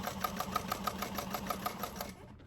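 Domestic sewing machine stitching the top edge of a fabric appliqué bag, a steady fast mechanical whirr with regular needle clicks running for about two seconds, then stopping abruptly.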